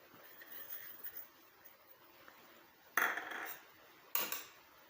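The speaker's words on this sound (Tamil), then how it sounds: "நல்லா கலந்து விட்டுருங்க." Herbal powder for greying hair is stirred into lightly warmed hair oil in a pan: faint scraping, then two sharper metallic clinks of the spoon against the vessel, close and otherwise quiet.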